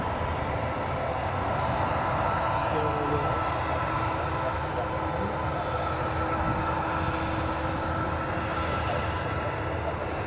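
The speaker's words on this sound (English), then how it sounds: "Well, Delta is now coming along the taxiway." A Delta airliner taxis at Edinburgh Airport, its engines making a steady, fairly faint whine and rumble in the distance, constant throughout with outdoor background noise.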